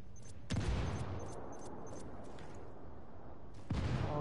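In the Ghost Recon video game, a frag grenade goes off with a heavy boom at about half a second. Scattered gunfire crackles after it, and a second blast hits near the end.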